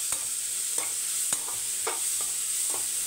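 Chopped large onions fry in a pan with a steady hissing sizzle, while a spatula scrapes through them in several distinct strokes, close up and without voices.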